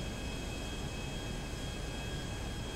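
Aircraft in the Grand Theft Auto roleplay game with its landing gear going up, heard as a steady, even jet-engine roar with a faint high whine, constant throughout and with no voices.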